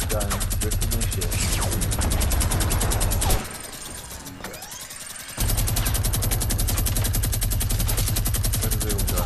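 Minigun fire in Fortnite: a rapid, sustained mechanical burst of rounds roaring close and loud, breaking off for about two seconds before resuming at full intensity.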